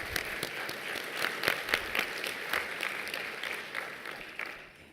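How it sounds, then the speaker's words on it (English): Conference audience at a policy forum applauds, a moderately faint wash of many hands clapping with a few sharper claps standing out, fading toward the end. "give them a big hand of applause"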